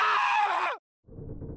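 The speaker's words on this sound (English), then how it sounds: "That was a good scream." Short, high-pitched scream from a character in Bloodstained: Ritual of the Night, loud and close, cut off abruptly, followed after a brief silence by a low rumbling groan-like noise.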